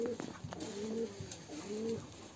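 High flyer pigeons coo nearby in a few soft, rolling calls, with quiet pauses between them against a faint steady background hum.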